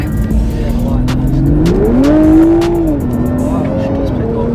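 A turbocharged Toyota GR Supra engine revs up and pulls hard, its pitch climbing then easing off, heard from inside the cabin with a steady road roar underneath.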